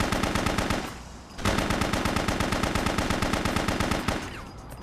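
Rapid automatic gunfire in the video game BloodRayne: Terminal Cut, loud and close, comes in two long bursts of evenly spaced shots split by a short pause, with no talking.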